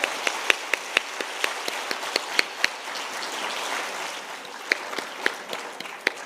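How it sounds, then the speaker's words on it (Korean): A church congregation applauds during a Wednesday worship service after a hymn and drum performance, a steady patter of many hands with a few sharper claps standing out near the start and end. "큰 박수로 격려해 주시기 바랍니다."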